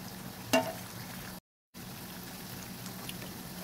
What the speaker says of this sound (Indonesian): Semuanya digoreng, semuanya digoreng.